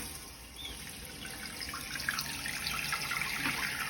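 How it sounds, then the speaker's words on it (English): Water rushes steadily into a toilet tank through its fill valve after the supply is turned back on, a constant hissing flow at a soft level with no talk. "We got that water filling back up"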